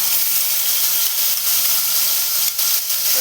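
Tomato paste hits hot oil tempered with nigella seeds, producing a loud, close, hissing sizzle that runs steadily throughout with slight surges.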